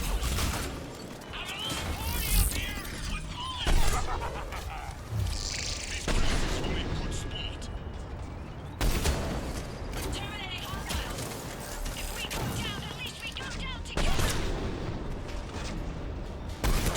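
Heavy gunfire in Mass Effect 3 rattles in sustained, dense volleys broken by sharper blasts every few seconds, fairly distant and moderate in level, with voices mixed in.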